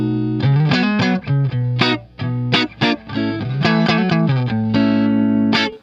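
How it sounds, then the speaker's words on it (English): Electric guitar with its volume rolled back to clean up a distorted tone, played as short chords and riffs with sustained ringing notes and brief pauses, alone without talk. "I can clean it up by just rolling off of the volume."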